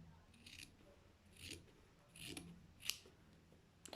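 Scissors snipping through fabric a centimetre out from a sewn seam while stitching a corner, four or five short crisp cuts spaced about a second apart, close and fairly quiet, with no talking.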